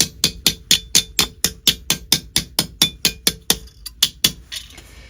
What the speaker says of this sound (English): And mallet that down.